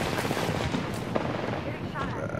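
Rumbling artillery blasts from an airstrike in the Apex Legends game, dense and continuous with sharper bangs mixed in, under overlapping voices.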